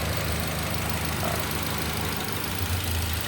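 A Nissan Grand Livina engine idles steadily with a low, even rumble throughout, close by and constant.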